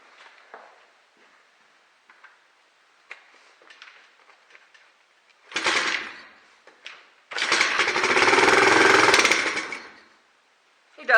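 A rebuilt Chinese pit bike's small engine, just primed through the intake with the choke closed, gives a few faint sputters, then bursts into a loud, rough run for about three seconds before cutting out.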